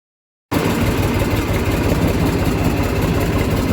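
A tractor engine idles steadily and loudly in a wheat field, a continuous low rumble with vibration that starts abruptly after a brief silence and holds without change.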